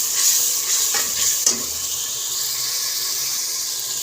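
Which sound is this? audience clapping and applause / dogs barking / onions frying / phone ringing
onions frying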